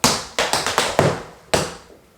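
Tap shoes strike a wooden floor in a step, maxi forward, step pattern, six sharp, loud, close taps in quick uneven rhythm with a brief pause before the last one.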